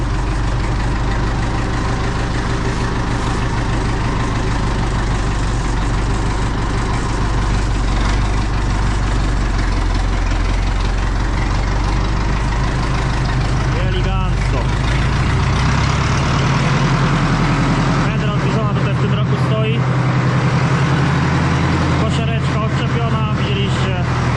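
A heavy engine idles steadily with a low, rumbling drone throughout, while voices talk over it from time to time.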